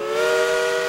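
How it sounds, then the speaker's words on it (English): A steam train whistle blows one loud, sustained, steady tone, close and alone with no talking. "Oh, that whistle!"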